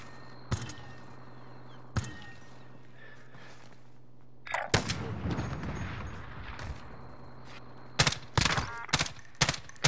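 Sharp gunshots crack out in scattered bursts in Call of Duty: Modern Warfare, a few isolated at first, then a rapid cluster near the end, with rumbling movement in between.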